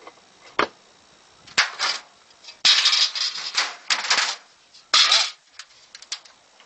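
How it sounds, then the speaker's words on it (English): Tin snips cutting a sheet metal vent, giving a series of sharp metallic snips and crunching clips in irregular bursts, close and fairly loud against a quiet background. "Got a pair of snips to cut right there."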